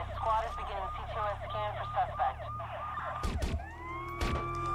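Ambulance siren in the Watch Dogs video game, a loud wailing siren sweeping up and down close by amid game engine and traffic noise, with sharp bursts near the end.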